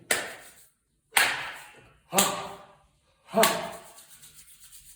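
Four bursts of brisk rubbing, like palms scraping together, each fading out before a short silence; close and fairly loud.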